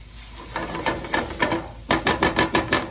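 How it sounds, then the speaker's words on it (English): Onions frying in a pan while being stirred for taco pasta: a steady sizzle runs throughout. Sharp scraping strokes sound at first, then turn into a rapid, regular series near the end. "Now that these onions have had about 5 minutes to soften in here"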